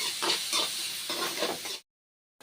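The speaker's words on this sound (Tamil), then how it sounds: "இப்போ வந்து வெங்காயம் லைட்டாக வதங்கணும் வதக்கிக்கலாம்" Onions sauté in a pan for a village-style crab curry, giving close bursts of sizzling and stirring that cut off abruptly into silence near the end.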